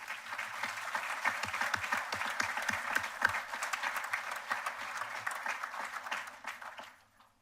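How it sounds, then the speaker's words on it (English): A crowd applauds at the Bermuda College commencement ceremony. Dense, even clapping fills the hall for about six seconds, then fades away. "Let's give them a round of applause."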